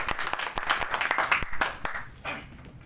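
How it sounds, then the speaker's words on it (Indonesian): Applause breaks out in a classroom, a burst of many hands clapping at close range that thins and fades over a few seconds, with a faint voice mixed in. "Oke, aplaus dulu."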